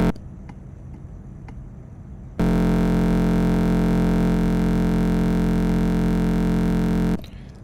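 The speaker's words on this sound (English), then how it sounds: "let's add some distortion to this just right off the top" Synth patch in Bitwig run through heavy distortion, a loud, buzzy sustained tone dense with harsh overtones that holds steady for about five seconds, following quieter ticking material and cutting off abruptly.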